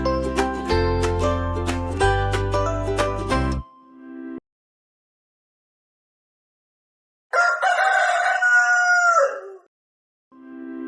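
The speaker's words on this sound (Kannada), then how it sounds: "ಕೋಳಿ ಕೂಗಿತು ಬೆಳಗು ಆಯಿತು" A rooster crows once, a clear, rising and falling call that rings out alone after a stretch of music and a silent pause.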